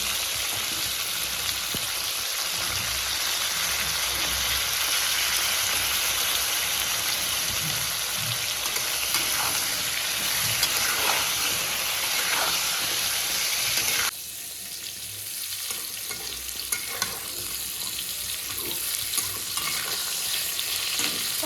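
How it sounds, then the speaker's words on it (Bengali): Pointed gourd frying in hot oil makes a continuous dense sizzle with faint clinks, then drops abruptly to a quieter, softer frying hiss for the rest. "পটল ভাজা হয়ে গেছে এবার তুলে নেব"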